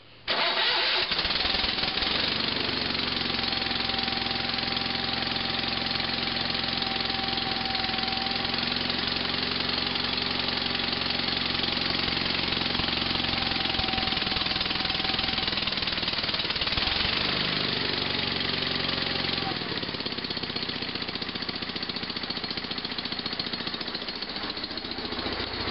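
A Sears GT/18 Hydrodrive garden tractor engine cold-starts with choke at about half throttle, catching almost at once and settling into a loud, steady idle close by, with a brief shift in tone near the end.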